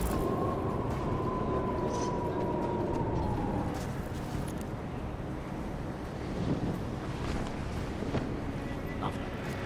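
Wind gusts across a rooftop in the video game Deus Ex Mankind Divided, a loud, constant rushing roar with a faint tone drifting through it early on.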